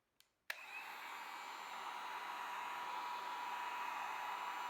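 A heat tool set to its lowest setting clicks on and blows a steady, smooth whooshing hiss while heating butyl tape along the edge of a car headlight, close and constant with no talking.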